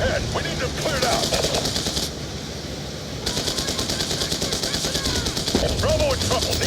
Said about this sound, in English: Bravo receiving effective enemy fire